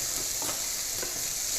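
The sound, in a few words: onions and meat frying in a pot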